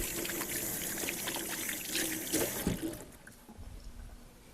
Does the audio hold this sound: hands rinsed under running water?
yes